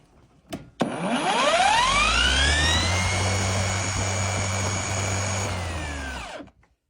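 A cordless battery lawn mower starts up. Its motor whine climbs quickly to a loud, steady hum that holds for about five seconds, then cuts off and winds down. There is no talking.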